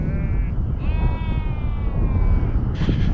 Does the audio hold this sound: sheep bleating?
yes